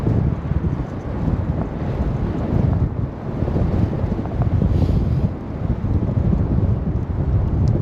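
Strong, cold wind roars over the microphone on a bike ride, a loud, continuous buffeting rumble with gusty swells and no voices.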